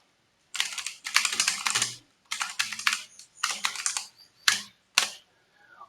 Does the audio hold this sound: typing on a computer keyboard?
yes